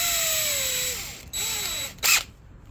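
A power drill bores pilot holes into a hidden tang knife handle, whining steadily with pitch dips as it bites, then a pause, a second shorter run and a brief loud burst at the end, close and alone.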